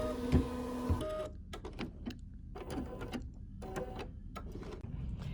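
An embroidery machine stitches out a design with a quiet, rapid, rhythmic mechanical chatter. The stitching comes in clustered bursts separated by brief pauses and sits close to the microphone.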